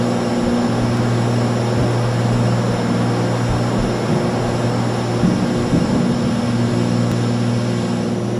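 Piper PA-28R Turbo Arrow in the X-Plane flight simulator climbing after takeoff with gear retracting, a steady loud propeller engine drone with constant tonal hum and a brief mechanical clunk partway through.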